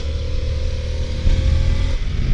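A 2023 Harley-Davidson Pan America Special motorcycle runs fast, its engine a loud, close, steady roar with a brief surge in intensity partway through.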